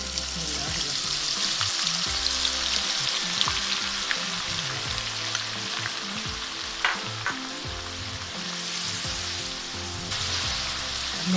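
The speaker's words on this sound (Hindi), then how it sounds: "जिस घी में मैंने मछली फ्राई की थी उसी घी में अब मैं मसाला तैयार करूँगी।" Ground paste of onion, garlic, ginger and green chilies fries in hot ghee, already used for frying fish, with a steady close sizzle and crackle and occasional scraping stirs throughout.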